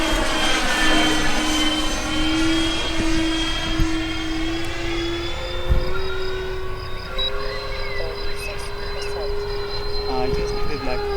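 A homemade radio-controlled Citation M2 jet flies at part throttle, its loud steady turbine whine holding a high pitch that slowly rises and shifts, close and continuous, with a voice speaking briefly under it.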